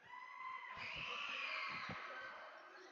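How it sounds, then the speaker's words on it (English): A crowd at a high school varsity boys basketball game lets out a sudden sustained scream, a shrill massed yell that swells and fades over a few seconds, heard faintly at a distance. "the sudden scream from the crowd does not work"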